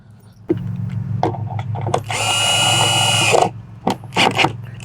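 A power drill drives screws into a boat box system, a short whine followed by a longer sustained run of about a second and a half, then brief bursts, close and loud with surrounding bumps and handling noise.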